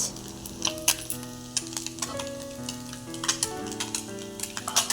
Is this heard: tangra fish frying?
yes